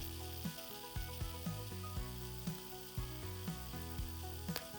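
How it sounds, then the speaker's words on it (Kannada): Chopped onions sizzle in hot ghee at a steady hiss, broken by a regular series of sharp clinks and scrapes from stirring, close and moderately loud with no voices. "ಇಲ್ಲಿ ತುಪ್ಪ ಬಿಸಿ ಆದಮೇಲೆ ಇದಕ್ಕೆ ಕಟ್ ಮಾಡಿಟ್ಟಂತಹ ಈರುಳ್ಳಿಯನ್ನು ಹಾಕುವ."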